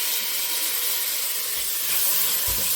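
Tomato dropped into hot oil for a potato and eggplant curry gives a steady, close hiss of frying that swells slightly near the end, with no voices over it.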